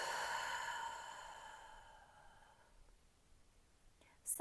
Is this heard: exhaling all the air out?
yes